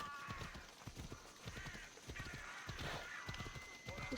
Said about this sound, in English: Why are you afraid of a horse?